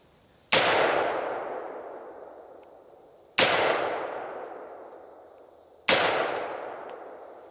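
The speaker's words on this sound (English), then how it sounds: "that's the first 3 shots with this rifle" Three loud gunshots from a custom-built AR rifle, each a sharp crack with a long ringing decay, spaced roughly three seconds apart with nothing else heard.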